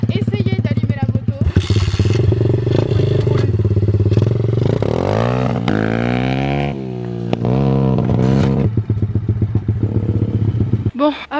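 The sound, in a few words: motorcycle engine being started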